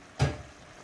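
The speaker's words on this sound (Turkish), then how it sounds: "Şimdi kapağını kapatıyorum." A lid goes down on a cooking pot of Turkish meftune stew with a single short, dull clack, close by and followed by quiet.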